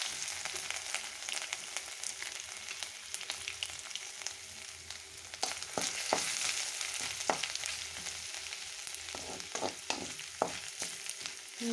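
Ginger and garlic fry with mustard seeds in a hot pan, a constant soft sizzle broken by scattered sharp pops and crackles, with no talking.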